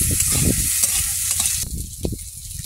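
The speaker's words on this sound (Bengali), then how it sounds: "এবারে কড়াইতে তেল দেবো, রসুন দেবো, পেঁয়াজ দেবো, কাঁচা লঙ্কা দেবো" Garlic, onion and green chili sizzle in hot oil in a wok, a steady bright frying hiss with soft stirring knocks and scrapes throughout, close and fairly loud.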